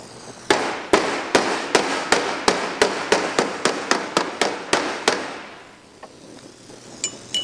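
A hammer strikes sheet metal over a wireform to shape a Porsche 550 nose: about fifteen loud, evenly spaced metallic blows with a bright ring, then a quieter stretch with a few lighter taps.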